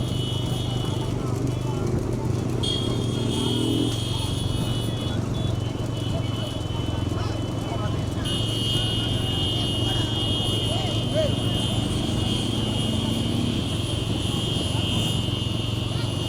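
Bulls racing a bullock cart in a Tamil village race, their hooves and the cart wheels making a steady rumbling clatter under constant excited shouting and talk from nearby people.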